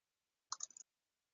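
A computer mouse clicking: a quick, faint cluster of several sharp clicks packed into a fraction of a second, surrounded by silence.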